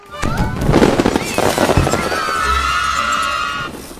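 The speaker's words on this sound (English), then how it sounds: "Like, Gandalf can do these firework things." Gandalf's fireworks in a Lord of the Rings film scene crackle and pop in loud bursts, then settle into a sustained whistling shimmer, mixed with other film sound such as a horse's whinny.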